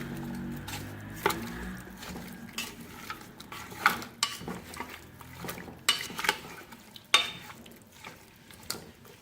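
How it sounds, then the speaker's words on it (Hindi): Spices, black cardamom and a cinnamon stick, being stirred into beef trotters in a pot for Lahori paya, with soft scraping and clinks of a spoon against metal recurring irregularly over a low sizzle. "अब मोटी इलायची शामिल करेंगे एक अदद दालचीनी का टुकड़ा शामिल करेंगे। मिक्स करेंगे अच्छी तरह से।"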